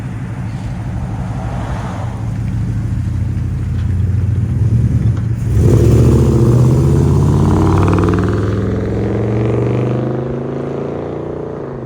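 A lifted 4x4 Dodge Dakota with a 4.7L V8 and true dual exhaust idles with a deep rumble, then revs hard midway and holds a loud, throaty roar before easing back down.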